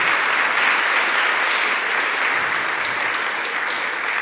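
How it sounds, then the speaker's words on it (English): Audience applause for a kindergarten teacher retiring after 29 years, heard at a school board meeting: dense, steady clapping from a room of people that holds evenly throughout, with no voices over it. "can we have a round of applause?"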